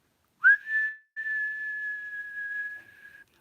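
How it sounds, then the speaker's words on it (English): A person whistles out on a long exhale during a breathing exercise: a short rising whistle, a brief break, then one steady sustained tone lasting a couple of seconds, clear and close in a quiet space. "inhale slowly, deeply, deeply, and then whistle out, whistle out"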